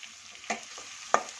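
Chopped onions dropped into hot oil already holding crushed ginger, garlic and green chilies for egg rice, giving two quick scraping splashes over a faint steady sizzle, close and brief.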